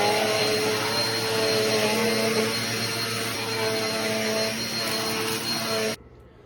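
Vacuum cleaner running steadily in an art studio, a loud continuous whine and rush with a constant pitch, holding for several seconds before abruptly cutting off into quiet.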